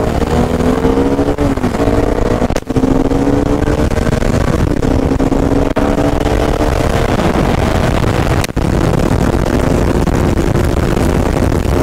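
A motorcycle engine pulls hard in third gear during a drag race, a loud continuous drone with rising revs and brief gaps at gear changes, heavy wind buffeting throughout.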